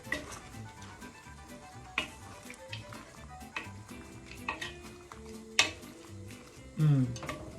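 Bean and mussel soup is stirred in a pot with soft scraping and occasional spoon clinks against the metal, close and moderately quiet, with faint talk in the background.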